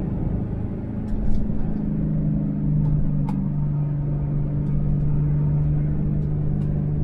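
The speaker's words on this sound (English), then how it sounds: "Air-cooled engines by their very nature are quite loud, and this one does have a fairly fruity exhaust on it as well." Chevrolet Corvair Monza with an air-cooled engine and fruity exhaust heard from inside while driving: a steady, loud low drone with a sustained hum and no talk, with faint slight surges.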